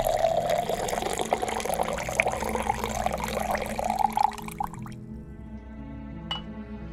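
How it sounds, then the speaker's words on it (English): A drink being poured, liquid splashing and filling a glass for a few seconds before stopping, followed by a quiet hum and one small clink. "Real quick, one last pour here."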